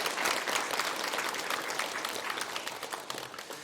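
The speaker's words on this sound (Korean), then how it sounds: "우리 박수로 한번 영광 올려드리면 좋겠습니다." A church congregation at a New Year's Eve worship service claps together in a dense, sustained round of applause that fills the room for several seconds at steady loudness.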